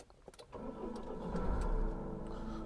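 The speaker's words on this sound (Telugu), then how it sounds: "బటన్ ప్రెస్ చేస్తే వెహికల్ అనేది స్టార్ట్ అయిపోతుంది" Engine of a 2017 Mahindra XUV500 W10 SUV starting by push button, a brief crank followed by a steady, close idle hum that swells slightly and then settles.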